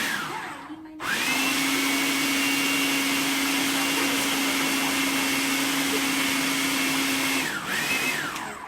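A food processor grinding nuts switches on with a loud, steady high-pitched whir that runs for several seconds before cutting off.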